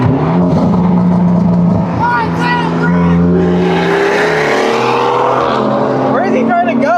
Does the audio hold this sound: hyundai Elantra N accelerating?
yes